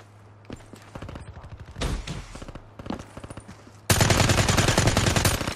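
Shotgun gunfire in a competitive online first-person shooter match, a series of sharp repeated shots that swell into loud, dense, rapid firing toward the end, with no talk over it.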